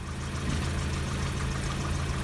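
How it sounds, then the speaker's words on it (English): A red Midget's engine turning over on a weak starter, heard as a steady, close, churning mechanical drone with no voices. "I'm not getting enough cranking power"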